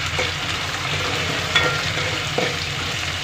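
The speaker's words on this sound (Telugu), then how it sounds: "అవి కూడా వేయించుకున్నాము." Onions and chillies frying in a pan with curry leaves, a steady close sizzle with a couple of soft stirring knocks, continuous and unbroken with no talk.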